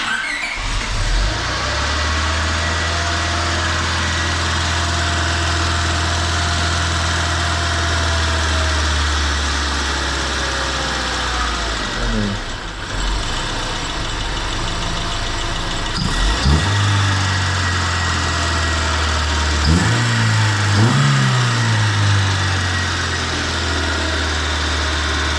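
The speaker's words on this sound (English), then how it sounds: "It sounds like it's got more valve clutter now than in the bottom end" Honda Civic EK engine idling steadily with noticeable valve clatter, then revved in a few sharp blips near the end, recorded up close and loud with no talking.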